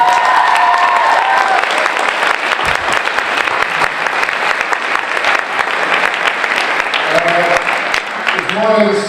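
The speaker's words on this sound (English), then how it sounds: "Let's give them a real round of applause." Audience applause at the closing ceremony of a student science fair in Winnipeg, a loud, sustained wash of clapping from a large crowd, with a voice briefly heard at the start and end.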